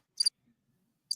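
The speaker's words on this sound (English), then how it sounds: "just all crickets." Cricket chirps played from a soundboard as a sound effect: two short, high, bright chirps about a second apart, separated by near silence.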